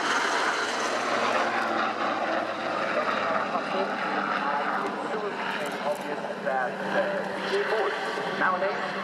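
Steady roar of a USAF tilt-rotor aircraft's engines with rotor thrum during a flying display at the Royal International Air Tattoo, sustained and fairly loud, while a person talks over it throughout.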